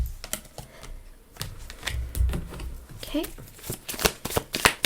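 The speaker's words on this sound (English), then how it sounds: "I'm just going to cut the deck again." A deck of tarot cards is cut and shuffled, giving quick close riffling clicks and soft card slaps in an irregular run, with a brief spoken word in the middle.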